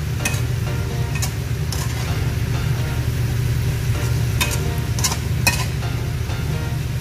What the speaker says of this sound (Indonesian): Udah masuk semua bumbunya, kita aduk lagi sampai pusing